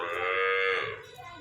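A cow at a cowshed lets out one long, loud, close moo that fades toward the end.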